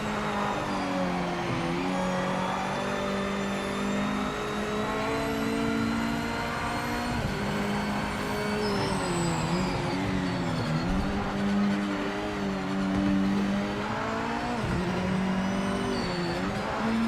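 A race car engine in the video game Project Motor Racing roars steadily throughout, its pitch rising and falling as it shifts and accelerates, with faint tire squeal, no talking.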